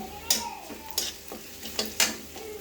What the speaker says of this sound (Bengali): রসুন পেঁয়াজ ভাজা হয়ে গেছে, এবার দিয়ে দিচ্ছি একটু মরিচের গুঁড়ো,